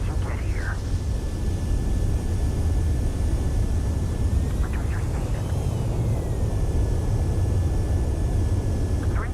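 A jet aircraft on landing approach in the video game Ace Combat 7 holds a steady, loud, broad engine roar throughout, with faint whining tones above it and people talking over it.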